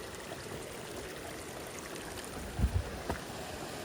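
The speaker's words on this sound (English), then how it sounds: "this is actually, I believe, a hot waterfall" Hot waterfall at Fifth Water Hot Springs on a winter night, a steady, faint wash of falling water with a few soft low thumps near the end.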